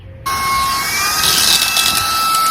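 A cordless vacuum runs steadily and loudly, its motor switching on after a brief quiet start, with a rising whine as it suctions up a penny; no one speaks.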